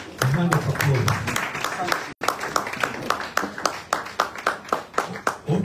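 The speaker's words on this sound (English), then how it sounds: "I will want to give them a hand of applause" Scattered hand claps greet six tribal heads standing at a community meeting, irregular claps close by and loud, mixed with background chatter and crowd noise.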